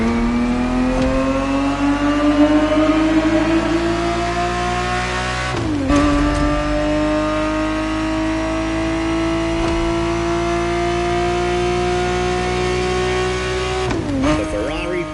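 A Ferrari 365 GTB4 races in The Crew Motorfest, its engine holding a loud, steady, rising drone through long pulls, with two brief shift-like breaks around the middle and end.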